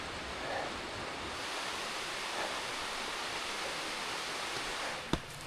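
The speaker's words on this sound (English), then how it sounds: "at least the waterfall didn't disappoint" A waterfall in a snowy winter landscape gives a steady, broadband rushing roar from a moderate distance, with a single sharp knock near the end.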